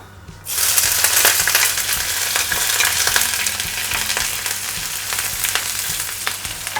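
Ginger, garlic and green chilli hit hot oil on a high flame for restaurant-style chilli chicken, bursting into a loud, close sizzle after a quiet start and crackling on steadily with occasional stirring.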